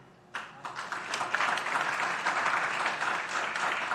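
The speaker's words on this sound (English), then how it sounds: "this is one moment you can applaud" Audience applause at the 2024 Irvine mayoral candidate forum breaks out suddenly after a quiet start, then holds as dense, steady clapping from a seated crowd for several seconds.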